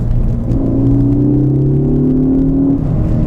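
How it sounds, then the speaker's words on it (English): Ford Focus ST on the road, its turbo spooling up as rising whines sweep over a loud, constant engine and road rumble, heard up close from inside the car with no talking. "you hear the turbo spool, it sounds so good"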